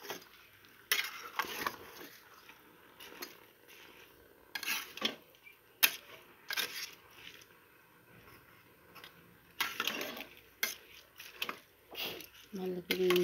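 A spoon scrapes and clinks against the metal pot of a rice cooker while rice and vegetables are stirred for khichuri, in irregular bursts of clatter and scraping.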